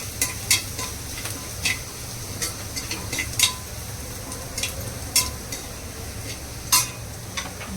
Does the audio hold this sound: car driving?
no